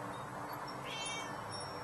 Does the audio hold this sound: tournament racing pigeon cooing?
no